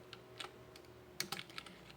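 Quiet, scattered keystrokes on a computer keyboard, a few light irregular taps over a faint steady background hum.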